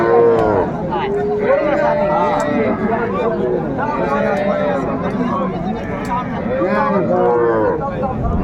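Cattle low repeatedly at a busy village cattle market where cows with calves are being bargained over, with loud moos close by over crowd chatter and nearby talk.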